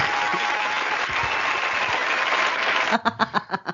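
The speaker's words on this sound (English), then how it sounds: "I'm gonna give me some claps for that" Steady applause from a group rolls on for several seconds during an interview show, then breaks into a few separate, slower claps close by as it winds down.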